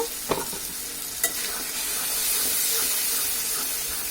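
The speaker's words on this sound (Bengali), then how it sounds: "আমাদের যে চামড়াটা ভালোভাবে কষায় নিতে হবে।" Chicken skin and turnip are stir-fried in a pan, giving a loud, steady sizzle with a couple of sharp scrapes from stirring early on, close up and with no voices.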